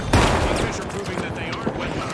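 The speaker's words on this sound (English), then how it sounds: "Ah, the shotgun." A shotgun blast in the video game The Finals, one sharp loud report near the start followed by game noise and shuffling, with a second smaller hit later on.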